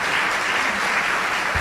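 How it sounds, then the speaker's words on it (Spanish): Church congregation giving a strong round of applause during a sermon, a dense, continuous wash of clapping that stays loud and even across the short stretch. "denle un fuerte aplauso."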